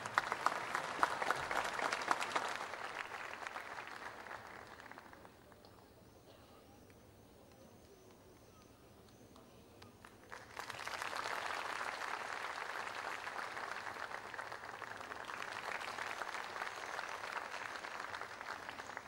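Audience applause in a concert hall as a choir's conductor is welcomed onto the stage: steady clapping, a quieter lull midway, then a renewed, fuller burst of clapping that carries to the end.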